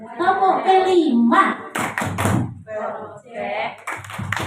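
A group claps in a rhythmic patterned chant at a teachers' gathering, with sharp clap bursts alternating with voices calling out together, loud and close.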